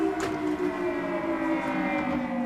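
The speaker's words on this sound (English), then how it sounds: "air raid sirens have sent people scurrying for cover" An air raid siren wails over Kuwait City during a missile alert, a sustained steady tone held at constant pitch, loud and unbroken, with no talk.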